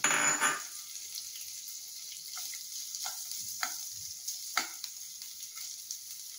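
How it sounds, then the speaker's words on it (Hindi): Potato batons frying in hot oil, a steady low sizzle with a louder burst of crackling at the start and scattered soft pops and bubbling afterward, no talking. "तेल आमर गरम हो गलानी, आमर ये आलू टिके भाजी दबा।"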